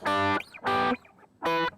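Electric guitar run through a distortion pedal after a compressor in a worship-style effects chain, playing three loud, gritty sustained chords separated by short gaps, with no talking.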